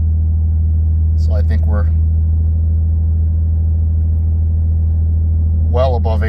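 A 1990 Nissan 300ZX idles just after a cold start, giving a steady, low, even hum that holds throughout while someone speaks briefly over it twice.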